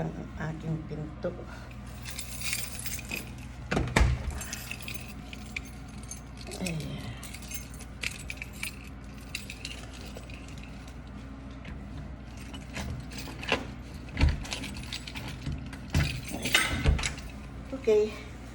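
Keys jangle in repeated bright bursts while a door is locked, with clicks and handling noises in a lived-in home as someone heads out; speech is present at times under the metallic rattling.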